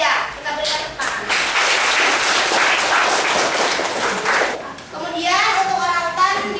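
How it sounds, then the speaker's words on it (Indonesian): Sustained applause from a school crowd, steady clapping throughout with children's voices chattering underneath, briefly dipping before picking up again. "Kita berikan tepuk tangan."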